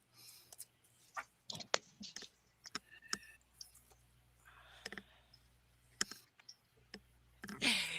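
Tarot cards are shuffled in a series of scattered crisp clicks and soft riffling bursts, close and fairly quiet, with a louder shuffle at the end.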